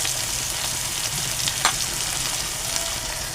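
Garlic paste and turmeric fry in hot oil with a dense, even sizzle, marked by a faint tap or scrape partway through, close and without speech.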